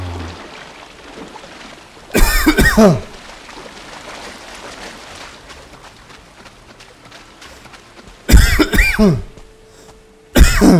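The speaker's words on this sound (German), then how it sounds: "Ich habe so einen kleinen Hustenanfall." A man coughs in three short, loud bursts, well spaced and close to the microphone, over a quiet game backdrop with low ambient noise between them.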